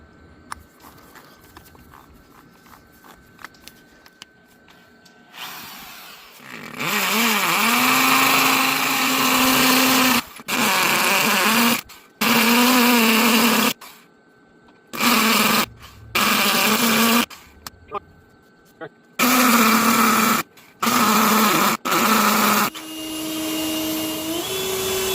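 A power drill fitted with a 5/8 bit bores anchor holes, running in repeated loud bursts of whining motor and grinding, started and stopped many times with short silent gaps between, close by, no talking.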